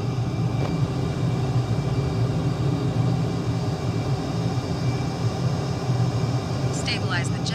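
Fighter jet flying level in Microsoft Flight Simulator 2020, a steady low engine drone and airflow roar that stays constant throughout, with a brief higher-pitched cue near the end.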